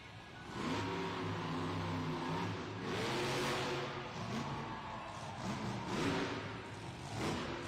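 A monster truck engine roars and revs hard at a Monster Jam arena event in Sacramento, California, rising and falling in loud surges with a crowd-filled arena backdrop and no talk.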